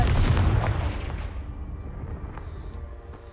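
A Confringo blast spell explodes in Hogwarts Legacy, a single loud booming burst up close that rumbles and fades out over a few seconds.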